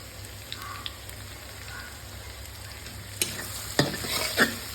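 Turmeric, salt and chili powder being stirred into meat in a frying pan, a faint steady sizzle under a low hum, with a few brief scraping clatters near the end.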